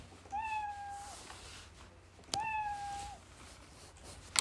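A cat meows twice, two clear drawn-out calls separated by a short pause, close and fairly loud over quiet background, from the Scratch programming tool's sound library.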